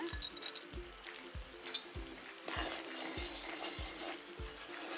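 Cardamom pods dry-roasting in a pan make soft, rattling scrapes, stirred in a steady rhythm of about two strokes per second over a faint sizzle.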